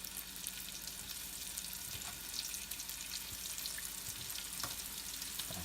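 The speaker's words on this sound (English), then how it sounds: "now we're gonna put the meat in the oil" Venison tenderloin fries in hot oil with a steady, fairly quiet sizzle that continues without a break, with a few faint clicks and no talking.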